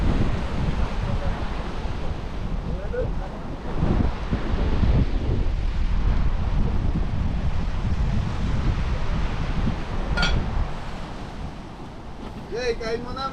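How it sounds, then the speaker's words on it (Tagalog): Sea waves at Candelaria beach in Zambales, a steady broad wash of surf mixed with heavy wind buffeting the microphone, continuous and fairly loud, with a few faint voices and brief sharp sounds near the end. "Ito yung dagat. Dagat Candelaria."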